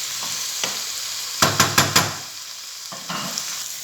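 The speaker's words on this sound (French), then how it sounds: "Nos poivrons et notre oignon sont à présent bien revenus." Peppers and onion sautéing in a pan for fish paella, a soft constant sizzle broken by a quick run of four sharp scraping stirs, then quieter stirring strokes, all close.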